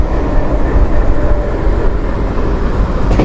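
A WDM 3 diesel locomotive from Ludhiana shed works at a non-electrified station in the Rajasthan desert, a loud, steady low rumble with rolling rail noise close by. It continues unbroken, with no talk.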